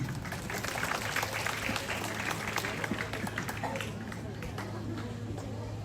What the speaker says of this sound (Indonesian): memberikan tepuk tangan sebagai bentuk penghormatan bagi keluarga yang terbentuk hari ini